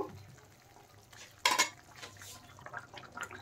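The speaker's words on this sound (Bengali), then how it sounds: "এখন আমি দেখেন স্টিম করা ভেজে রাখা পটলগুলো দিয়ে দিচ্ছি। দিয়ে আরেকটু নেড়ে দেব।" Steamed, fried pointed gourds tipped into boiling gravy in a pan, with a sharp burst of clatter and splash followed by softer stirring, scraping and low bubbling.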